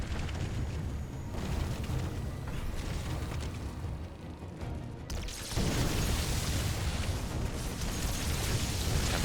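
Gunfire and explosions rumble and crackle through a StarCraft 2 battle, a dense, continuous low roar with bursts that swell louder in the second half, with no voices.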